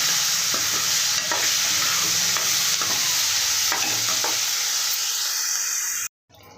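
Tomatoes with salt and turmeric sizzle and fry steadily in a hot pan, loud and close, with occasional stirring scrapes. The frying cuts off abruptly near the end.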